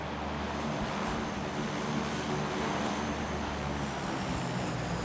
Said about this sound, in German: Flugzeug!